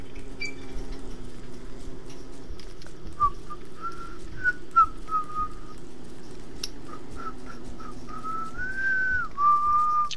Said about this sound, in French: Arrête de siffler